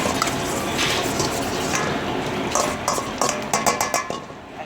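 Scraping and clinking of a utensil stirring tomato paste in a frying pan amid a busy hiss, with quick rhythmic taps toward the end.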